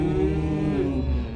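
A children's folk-song singer imitates a cow's moo at a live concert, one long sustained lowing call, loud and close, over steady stage sound.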